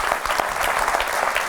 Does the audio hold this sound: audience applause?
yes